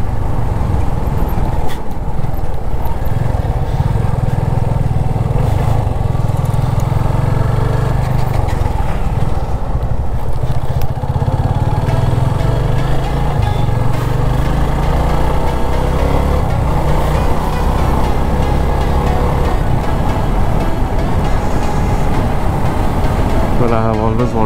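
Continuous loud engine rumble and wind buffeting from a Yamaha FZ25 motorcycle ridden on a four-lane highway in the morning, with a rough low drone throughout.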